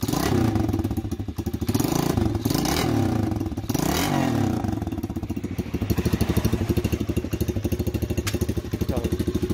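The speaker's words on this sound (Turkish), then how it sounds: "Motor şu an efsane oldu. Şimdi bir çalıştıralım isterseniz." A mini cross motorcycle engine, freshly cleaned, revs hard in repeated throttle blips before settling into a rapid, steady idle with a clattering rhythm, loud and close with no talk over it.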